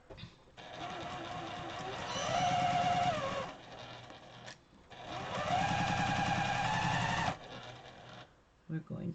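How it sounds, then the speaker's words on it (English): A sewing machine joins two pinned fabric pieces in two sustained runs of a few seconds each, with a short pause between, close and fairly loud, with a voice talking over the stitching. "We're going to sew this to this."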